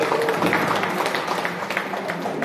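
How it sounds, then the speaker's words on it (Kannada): An audience claps at a workshop program in Halebidu, a steady, dense patter of many hands filling the whole short stretch at an even level. "ದಯಮಾಡಿ ಎಲ್ಲರೂ ಚಪ್ಪಾಳೆಯ ಮೂಲಕ ಪ್ರೋತ್ಸಾಹ ಕೊಡಿ."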